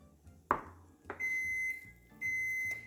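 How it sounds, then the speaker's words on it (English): A kitchen oven signalling it has preheated to 400 degrees: two sharp clicks, then two sustained electronic beeps, each lasting about half a second, clear and close in a quiet room. "that's the oven, you guys, that has been preheated to 400 degrees"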